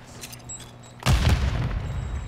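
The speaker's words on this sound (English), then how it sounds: "Somebody's shooting at me." Gunfire in a multiplayer shooter video game: after a quiet stretch, a single heavy, booming shot bursts out and trails into a rumbling, noisy tail. No one talks.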